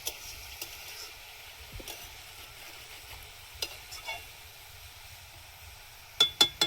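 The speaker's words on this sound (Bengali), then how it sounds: "ভালোভাবে ফোড়নটা আমি ভেজে নেব" Spice tempering fries quietly in a pan with a soft, steady sizzle, while occasional stirring clinks come through and a few sharper knocks arrive near the end.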